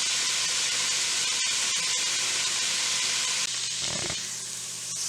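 Ingredients fry and brown in a soup pot for a seafood chowder, giving a steady, fairly loud sizzle and hiss that runs continuously, with a brief stirring scrape near the end and no voices.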